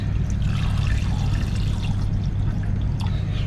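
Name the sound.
hydrochloric acid poured into water in a container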